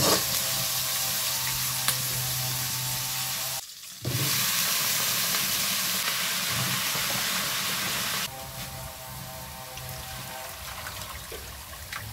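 Vegetables and spices sauté in a pan for a Filipino coconut-milk vegetable dish, a steady broad sizzle with a brief dropout and a quieter stretch near the end, close and alone with no talking.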